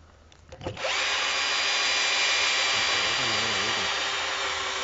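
A Bosch GSR 14.4V cordless drill bores into hardwood at full power. After a few faint knocks, a loud, steady, close motor whine with grinding starts and runs unbroken to the end.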